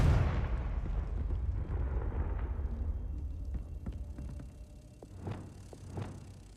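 Confringo spell explosion in Hogwarts Legacy video game: a heavy, booming blast up front that rumbles and decays over several seconds, followed by smaller scattered cracks and thuds.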